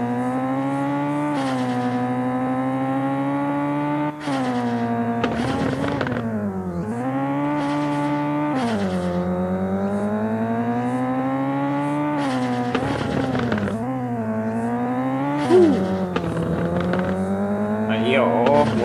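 Mazda RX-7 FC engine in a racing video game, climbing the Akina hill mod map in cockpit view: a loud, continuous engine note rising and falling through repeated gear changes and revs, with brief tire squeal, heard alone throughout.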